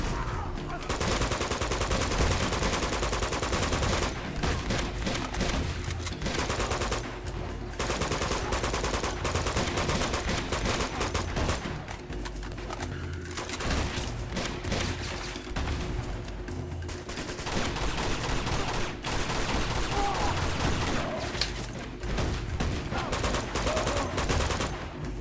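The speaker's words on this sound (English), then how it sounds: "Oh, Elena started shooting." Sustained, dense gunfire in the video game Uncharted 2: Among Thieves, with rapid bursts and Gatling-style automatic fire rattling almost nonstop for the whole stretch, punctuated by brief lulls and louder barrages.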